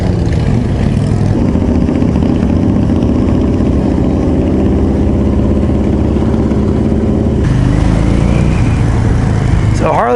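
A 2014 Harley-Davidson Low Rider engine on a test ride, loud and close, its deep throb droning steadily, then a gear change and rising revs near the end.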